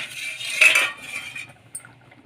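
A spoon stirs urad dal mixture in a pan, a brief scraping, clinking swirl that swells then fades, close and quiet with nothing else heard.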